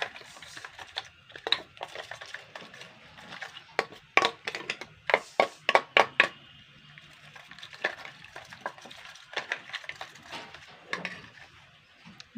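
Tomato paratha batter of flour is whisked in a bowl, giving bursts of quick sharp clicking taps against the bowl with short pauses between, close and fairly quiet, with no voices.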